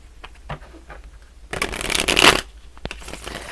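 Tarot cards being shuffled by hand: a few soft taps and slides, then a loud dense riffle burst of about a second, followed by lighter card handling.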